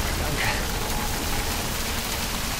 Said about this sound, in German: Und es regnet. Das ist ja widerlich.